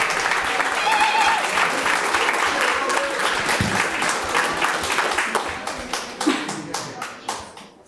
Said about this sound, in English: give a huge applause and welcome to techTutor.